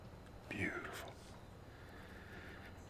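An eastern wood pewee's slurred, downward whistled call rings out, then a softer drawn-out whistle follows, both carrying over a steady background hiss.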